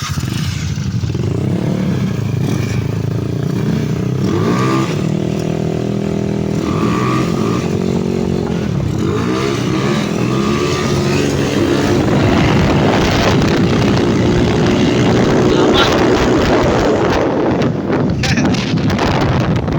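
Motorcycle engine being test-revved after a reset of a stock-head 59 bore setup, a loud steady drone rising and falling in pitch through several revs, heavily buffeted by wind noise.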